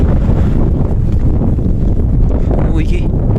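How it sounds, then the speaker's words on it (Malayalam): Strong wind buffets the microphone on the Illikkal Kallu hilltop in Kerala, a steady, loud, rumbling roar that fills the whole clip without letting up. "നല്ല കാറ്റുണ്ട്"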